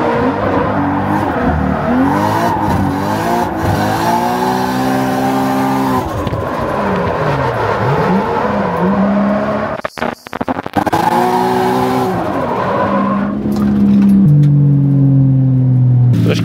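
A race car driving on a track in Japan with its engine misfiring, a loud continuous engine roar rising and falling through gear changes, with brief stuttering cut-outs near the middle.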